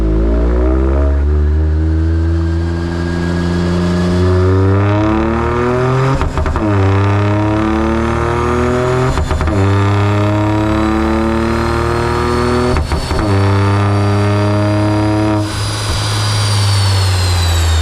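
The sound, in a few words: remapped Toyota GR Yaris engine revving with upgraded exhaust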